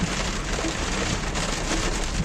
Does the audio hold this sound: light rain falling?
yes